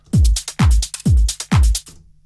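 Four punchy electronic kick hits in a steady beat, each layered with crisp snare, shaker and hi-hat ticks, ending after a short loop.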